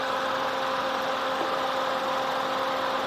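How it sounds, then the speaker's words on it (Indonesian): A 1000 cc car engine idling in a normal running state, heard as a steady, even hum with a faint constant tone, unbroken and moderately close. "Ini selayaknya mesin 1000 cc lagi nih memang suaranya."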